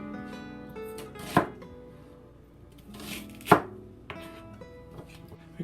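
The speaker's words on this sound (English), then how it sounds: "Then we just cut it like this and like this, so the onion will be like this shape." An onion being cut with a kitchen knife for a northern Chinese rib and vegetable stew, with a few sharp, separate chops landing on a cutting board at irregular intervals. The chops are close and clear, with quiet kitchen background noise and no talk.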